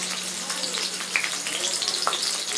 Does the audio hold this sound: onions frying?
yes